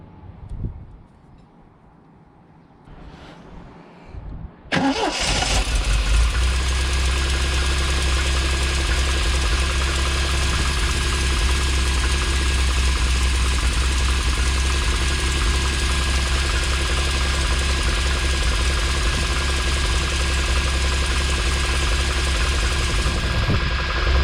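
Triumph TR7 engine cranking and catching, then settling into a steady loud idle with a constant even drone after a quieter opening.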